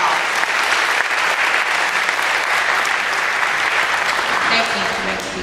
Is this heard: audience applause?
yes